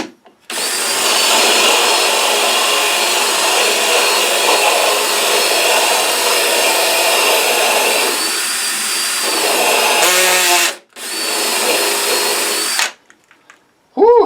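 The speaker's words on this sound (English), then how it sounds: "let's drill this out now" A power drill whines steadily for a long stretch as it drills into wood, pitch dipping briefly as it bites, then a short pause and one more burst.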